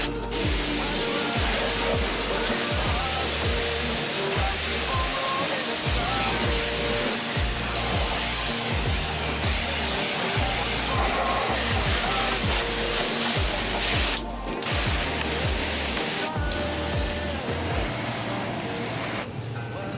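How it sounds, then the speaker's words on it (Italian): A pressure-washer water spray hisses steadily at a car wash while fresh water rinses salt off a motorcycle's underside, a loud continuous spray with pulsing low thumps and a few brief breaks. "ho trovato il car wash"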